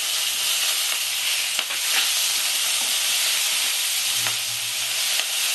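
Green chili and ginger sizzle in hot oil for a Bengali papaya shukto, a steady loud frying hiss with faint stirring clinks, no voices.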